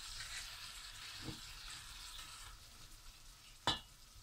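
Ginger garlic paste frying in a hot pan, a soft steady sizzle with a faint stir near the middle and a sharp clank of a spoon against the pan near the end.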